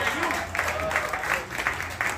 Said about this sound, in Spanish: Así que un fuerte aplauso también.